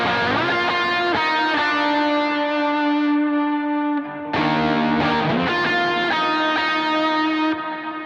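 Electric guitar with distortion and effects picks a melody in single notes, sustained and ringing with a short break midway, close and loud, alone.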